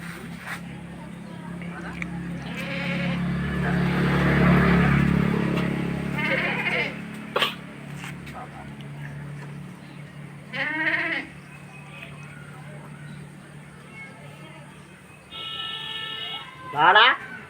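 Goats bleat on a farm in several separate calls, one drawn out near the middle and others sharper later, with people talking nearby and low background rumble.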